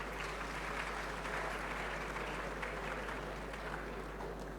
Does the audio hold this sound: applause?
yes